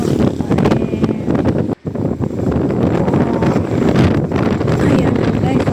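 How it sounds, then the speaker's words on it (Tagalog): Strong wind roars and buffets against the microphone during a ride along Bagac, with a steady motor droning underneath and a voice speaking through the blustery noise; one brief dropout breaks the otherwise continuous rush. "grabe talaga ang ingay ng hangin"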